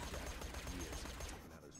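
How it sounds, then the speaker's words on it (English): Dense gunfire from the video game Borderlands 2, a quiet, continuous crackling of rapid shots blending into steady background noise for under two seconds. "Are you shooting me?"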